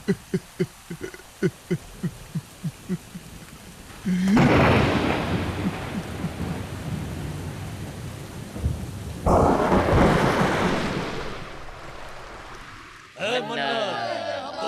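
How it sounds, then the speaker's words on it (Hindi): Steady rain pours while thunder rolls and cracks loudly in long bursts; a few rhythmic thumps come first, and a voice speaks near the end. "बारिश तो हो गई"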